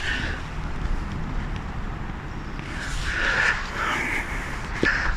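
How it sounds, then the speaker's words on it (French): Crosswind off the ocean sweeps across a golf course at Biscarrosse, making a steady, gusty rumble and buffeting against the microphone throughout, with a few faint higher sounds in the background. "il y a du vent droite-gauche qui vient de l'océan"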